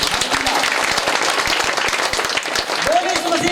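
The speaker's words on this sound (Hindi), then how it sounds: "यीशु के नाम में ताली बजाना चाहिए आपको।" A church congregation claps together in Jesus' name during a three-day fasting prayer service, a dense, steady run of hand claps filling the room with a voice speaking over it.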